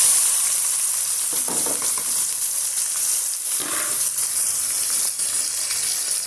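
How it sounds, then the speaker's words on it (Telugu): Chopped onion pieces fry in hot oil for a bitter gourd fry with crushed garlic, making a continuous bright sizzle broken by occasional stirring scrapes and shifts in the hiss. "వీటిని మనం గోల్డెన్ బ్రౌన్ కలర్లోకి వచ్చేలాగా వేయించుకోవాలండి"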